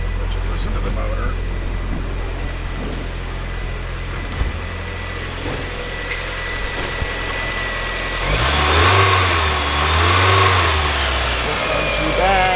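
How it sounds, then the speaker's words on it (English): A 1999 Mazda Miata NB engine with 91,000 miles idles steadily and close by, then is revved twice in smooth rising-and-falling swells near the end. "Let's listen to the motor."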